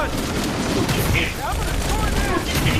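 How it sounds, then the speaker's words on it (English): Dense gunfire and explosions from the Halo Campaign Evolved beach head assault, continuous loud bursts and booms with someone talking over the battle noise. "I couldn't hear you over all the explosions."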